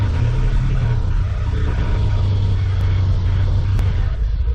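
An off-road vehicle churns through mud in two-wheel drive with the rear locked, its engine rumbling loud and steady with low growl throughout, no voices over it.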